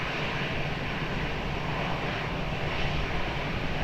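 A fixed-wing airliner on approach to runway 20 at Lisbon Airport gives a loud, broad, unbroken engine roar that holds steady and swells slightly toward the end.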